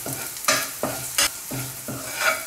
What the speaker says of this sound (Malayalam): ഇത് ചെറിയ തീയിലിട്ട് വറുത്തെടുക്കണം.